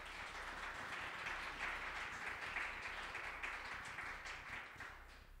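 Audience applause for guests at an AANHPI Heritage Month event: a continuous wash of many hands clapping, fairly soft and even throughout.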